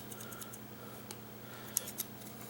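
A Gerber Lockdown Pry multi-tool is folded shut, giving two small, faint metallic clicks close together near the end over a quiet background, with no talking.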